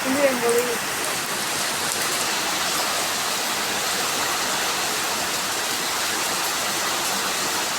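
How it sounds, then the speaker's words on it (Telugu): Heavy monsoon rain in Kerala pours down in a dense, steady hiss, with a voice speaking briefly at the very start. "కేరళ స్పెషల్ వాన. చూసారా ఎలా పడుతుందో"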